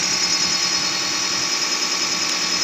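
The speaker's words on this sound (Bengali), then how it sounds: "এখন ফুয়েল পাম্প চেক করা হইতেছে যে কেমন কি, কত আরপিএম আছে?" A diesel fuel pump running steadily at 600 rpm on a repair test bench after assembly, a continuous dense mechanical whir and hum that stays level throughout with no talking.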